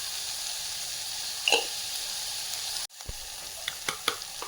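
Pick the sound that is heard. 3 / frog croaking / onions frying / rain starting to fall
onions frying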